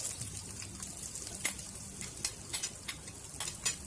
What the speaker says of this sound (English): Once it heats up, add in the sliced onions